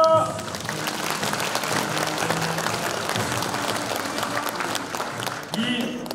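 Sustained applause from a seated audience at a Korean disabled veterans' association 72nd anniversary ceremony in Yongin, a dense, steady clapping that runs throughout and swells briefly near the end.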